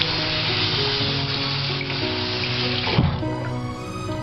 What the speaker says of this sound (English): So after wetting your sponge under the tap